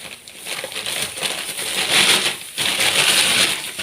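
Plastic bags holding fesikh salted fish are opened one by one, giving a close, continuous crinkling and rustling of plastic that swells louder toward the end.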